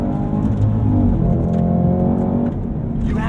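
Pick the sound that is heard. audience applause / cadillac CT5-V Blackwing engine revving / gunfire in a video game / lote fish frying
cadillac CT5-V Blackwing engine revving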